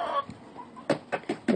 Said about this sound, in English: Look at those chickens.